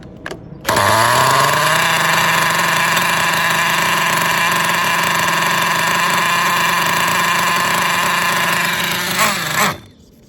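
A motorcycle engine fitted with a freshly adjusted carburettor idles close by, a steady, loud buzzing hum that starts abruptly, holds an even pitch for about nine seconds, then cuts off.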